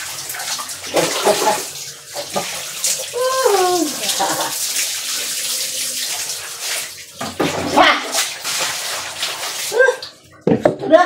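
Water pours and splashes during an outdoor bath on an island, sloshing in irregular bursts close by, with brief voices and a short sung or spoken phrase breaking in.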